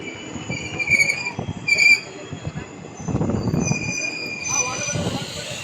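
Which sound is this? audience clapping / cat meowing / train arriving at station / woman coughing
train arriving at station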